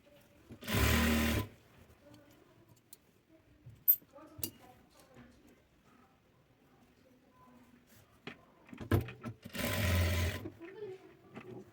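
A sewing machine stitches the side slit of a dress in two short, loud bursts, with quiet handling clicks and rustles in between.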